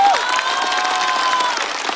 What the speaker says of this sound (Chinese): 掌声送给我们优秀的脱口秀演员